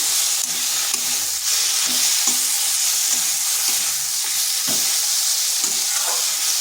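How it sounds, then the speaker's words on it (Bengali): Flat beans (shim) stir-fry in a pan that was covered, a steady close hissing sizzle with occasional soft knocks and scrapes of a spatula. "এইভাবে কষিয়ে নিতে হবে"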